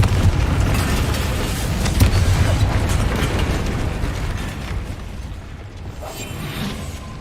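Confringo fire spell in the video game Hogwarts Legacy, a dense rumbling blast with mechanical clatter and booming bursts that stay loud throughout before easing slightly toward the end.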